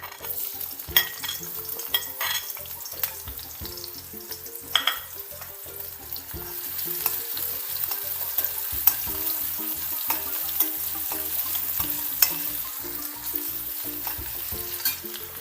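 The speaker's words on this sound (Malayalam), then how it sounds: "ചെറുതായിട്ട് അരിഞ്ഞു വെച്ച മൂന്ന് ഉള്ളിയാണ് ഞാനിതിലിട്ട് കൊടുക്കുന്നത്" Chopped shallots frying in hot oil for a Kerala cashew nut curry, giving a steady close crackling sizzle with light stirring clicks and occasional taps against the pan.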